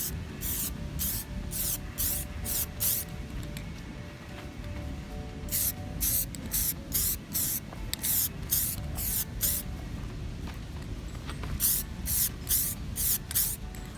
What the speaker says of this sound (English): after every time you use spray paint, you always want to spray the can upside down just to clear the nozzle out